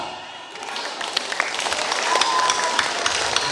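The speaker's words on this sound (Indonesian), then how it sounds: "Tepuk tangan yang mulia." An audience claps at a Balinese comedy performance in Desa Pinggan, Kintamani, with several seconds of dense clapping that builds slightly and carries faint voices mixed in.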